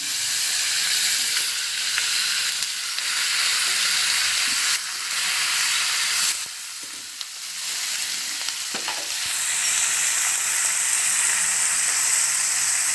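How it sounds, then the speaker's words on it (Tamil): Naatu kozhi (country chicken) pieces sizzling loudly in hot spiced oil, a constant bright hiss broken by occasional stirring scrapes, close up and with no talking. "இப்போ இந்த சிக்கனை அதில் போட்டு நம்ம ஒரு வதக்கலாம்."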